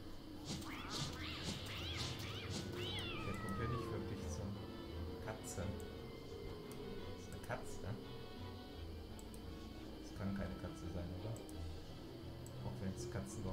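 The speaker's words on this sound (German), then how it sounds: "Achso, das muss eine Katze sein." A cat meows and caterwauls in the survival video game Don't Starve, a few wavering, rising-and-falling cries near the start over a quiet, ticking game ambience, with someone talking throughout.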